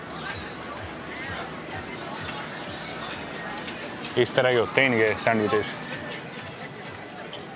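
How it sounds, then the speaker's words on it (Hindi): Dense crowd chatter along Montreal's Old Port, a steady outdoor murmur of many voices near a Ferris wheel and food stalls, with one nearby voice talking briefly over the background hubbub. "पूरी भीड़ हो रही है यार"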